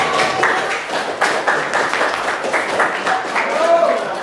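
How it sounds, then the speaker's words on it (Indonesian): Classroom of students applauding a student group, a few seconds of scattered, uneven clapping with voices mixed in. "Oke, kasih aplaus dulu buat kelompok."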